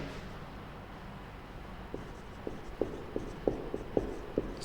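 Chalk or marker strokes tapping and scraping on a classroom board during a lecture, a series of short, faint, irregular marks over a quiet room.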